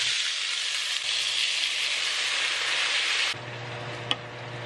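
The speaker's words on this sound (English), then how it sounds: "I've got Kyle's sausages cooking." Plant-based sausages sizzle steadily in a hot pan, a dense, continuous frying hiss that drops slightly in level partway through, with one brief clink near the end.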